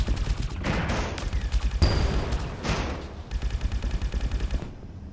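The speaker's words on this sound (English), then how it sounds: "The Gatling guns are really nice." Rapid Gatling gun bursts from spacecraft weapons in the game Project Genesis, several long rattling volleys with short gaps between them, loud and close, with no speech over them.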